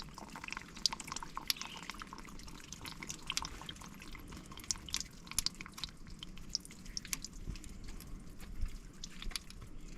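Water drains and drips from the side-cover housing of an abandoned telehandler, with irregular splashing drips and trickling over a low background rumble, fairly faint and close.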